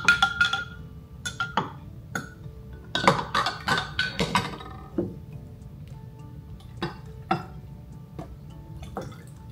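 A spoon stirs a juice drink, clinking sharply against the glass in quick bursts with pauses between, then scattered single taps.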